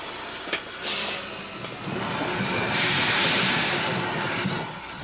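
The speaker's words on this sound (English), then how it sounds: "They throw the switch and the train moves forward onto a new siding." A steam locomotive pulls its train forward onto a new siding, giving a steady broadband hiss and rumble that swells into a louder burst of steam around the middle before easing off, with no voices.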